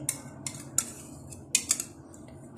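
A spoon clinks and scrapes against a bowl while mixing tahini sauce, yogurt and mayonnaise, with several sharp metallic taps over a low steady background, close and fairly quiet.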